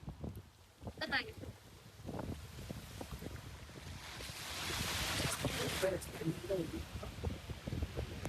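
Strong wind gusts near a small waterfall, starting faint and building to a steady loud rush of wind noise in the second half while a person talks.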